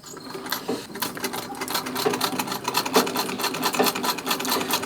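A Singer treadle sewing machine stitches fabric with a quick, steady mechanical clatter of needle strokes, close and loud, running continuously without talk.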